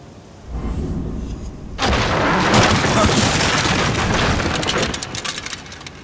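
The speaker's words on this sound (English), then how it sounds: "Find cover. They're shooting." Enemy gunfire in The Evil Within, a loud, dense barrage of booming shots that kicks in after a quieter opening and rolls on steadily before easing near the end.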